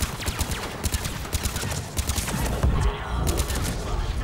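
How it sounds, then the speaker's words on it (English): Sustained automatic gunfire in the sci-fi shooter Mass Effect 3, a fast rhythmic stream of close, punchy shots rattling continuously with slight swells in intensity. "I do like how you can keep putting bullets out"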